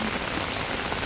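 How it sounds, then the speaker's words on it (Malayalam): Heavy rain pouring down around a house, a dense steady hiss filling the whole moment with no voices. "ഞങ്ങളുടെ വീട്ടിൽ ഇപ്പോൾ നല്ല മഴയാണ്."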